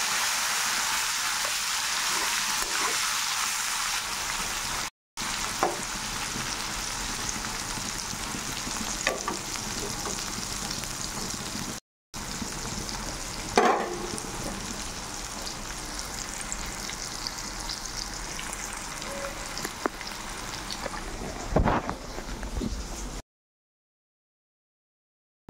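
Sliced bitter gourd fries in a hot pan with oil, a dense continuous sizzle and crackle that goes on for over twenty seconds, broken by two brief silent gaps and a few sharper stirring scrapes.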